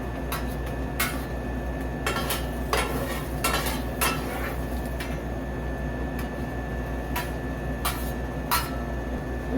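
Meat is spread across a meat lovers omelet cooking in a pan, with scattered sharp utensil clicks and scrapes over a steady low sizzle and kitchen hum.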